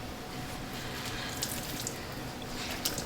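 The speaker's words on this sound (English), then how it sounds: "we're just going to want to make sure that we rinse out any excess water." Water runs and splashes in a sink as excess water is rinsed from wet clothes before tie-dyeing, a continuous moderately loud wash of sound with no talking.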